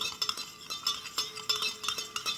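Spoon stirring sugar into a liquid solution, a quick series of light metallic clinks and scrapes against the container, fairly close and alone with no talk.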